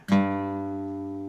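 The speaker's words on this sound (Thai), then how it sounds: "จากนั้นเพื่อนๆดีสาย 6 ตัวแรกนะครับ เป็นเบสของ G นะ" A single low G bass note plucked once on an acoustic guitar's sixth string, ringing out clearly and slowly decaying, alone with no other sounds.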